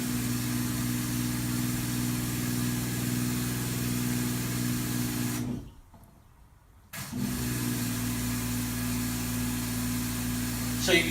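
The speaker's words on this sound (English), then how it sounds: "I'm going to switch the pump back onto its high setting" Portable carpet extraction machine with its pump switched to the high setting, a steady loud motor drone with a strong low hum. The drone cuts out for about a second and a half, then resumes at the same level.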